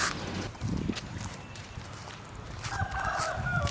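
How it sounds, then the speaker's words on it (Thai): A chicken clucks near the start and a rooster crows toward the end, heard outdoors amid footstep-like scuffs and background noise, with voices talking at moments. "โอ้ มีเสียงไก่ด้วย"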